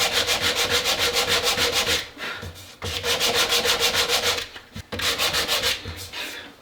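A file worked in long, even back-and-forth strokes across the cut metal top of a Citori shotgun, a rhythmic rasping scrape repeated in bursts with short pauses between runs, close and clear with no talking.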